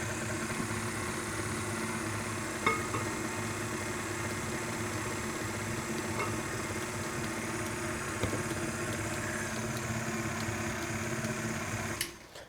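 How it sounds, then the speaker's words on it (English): An electric mixer whirs steadily on its low setting, beating cupcake batter in a bowl as eggs go in, with a constant motor hum and a few faint clicks before it cuts off at the end. "we're going to put the mixer back on low"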